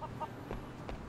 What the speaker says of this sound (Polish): Słyszę kurczaki